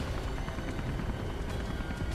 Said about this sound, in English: swear to God, that was a helicopter